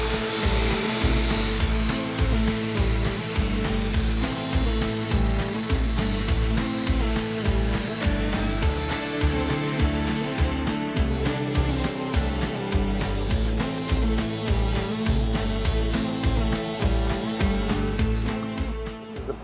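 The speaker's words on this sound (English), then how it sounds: "The 3M sanding pad" Continuous abrasive whirring of a power sander with a 3M sanding pad grinding a boat's bulwarks, loud and steady with a rhythmic pulsing throughout.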